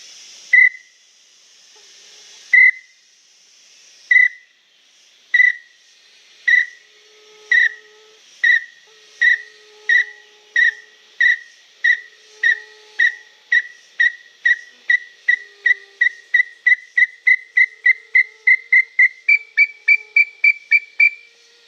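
A person whistles an imitation of the call of a female Iambuguaçu tinamou: a long series of short, clear whistled notes, widely spaced at first and then accelerating into a rapid run, close and loud with no talk.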